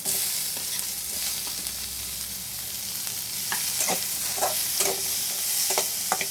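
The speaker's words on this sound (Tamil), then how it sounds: "இப்போ வெங்காயம் கொஞ்சம் வதங்கிடுச்சு." Onions frying in a pan for a Maggi noodle dish, a continuous close sizzle broken by repeated spatula scrapes and stirring knocks that grow more frequent toward the end.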